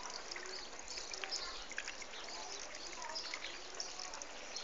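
Small homemade garden water feature built over cloth and pebbles, water trickling and dribbling in a soft continuous patter, faint and close, with no talk.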